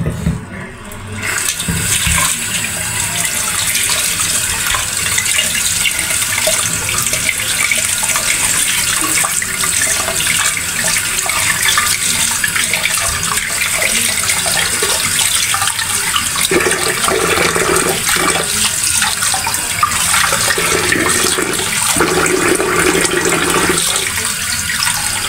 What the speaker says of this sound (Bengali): কই মাছটা এখন ভালো মতো ধুয়ে নেবে।